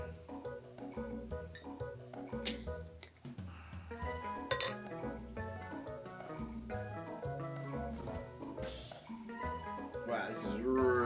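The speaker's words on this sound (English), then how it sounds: "All right, let's pour it up." Blue Moon Cinnamon Horchata Ale poured into a glass, with clinks of glass and can and a rising fizzy pour, heard close up.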